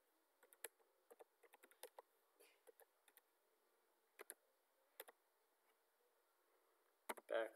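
Keys clicking on a computer keyboard as a file location is typed into a command line, quiet irregular bursts of taps with short pauses and a quick flurry at the end.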